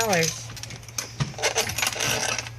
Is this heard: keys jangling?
yes